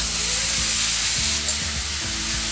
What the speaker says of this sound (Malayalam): ആ എണ്ണ ചൂടായി വരുമ്പോഴേക്കും ഈ ബീട്രൂട്ട് ഇതിലേക്ക് ഇട്ട് കൊടുക്കാം